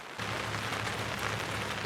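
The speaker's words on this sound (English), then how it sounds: "Just got to deal with the pouring down rain and cold." Heavy rain pours down on a cold Thanksgiving morning, a dense, steady hiss of water that starts abruptly and stays loud throughout.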